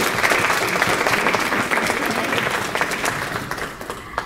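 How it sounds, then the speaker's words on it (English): An audience at an annual Louisiana Creole conference claps for the conference committee members, sustained dense applause from a roomful of people, loud and close, tapering slightly toward the end with faint crowd murmur. "everybody hand clap for them"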